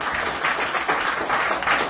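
Brief burst of applause from a church congregation, a busy, uneven patter of many hands lasting under two seconds, with no talking.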